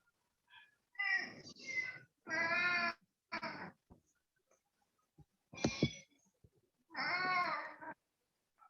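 Several distinct cat meows, harmonic and wavering, come in separate bursts spaced across the clip with short pauses, fairly close and moderately loud, with a few faint clicks between.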